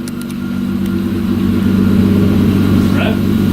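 The 4G Mitsubishi Eclipse GT engine revs up moderately after a header install, a loud, close, rising engine drone that holds steady throughout.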